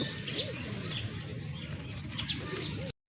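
A pair of Rajgolla fancy pigeons coo softly in repeated low rolling calls, close by and fairly quiet, with steady background noise before a sudden cutoff.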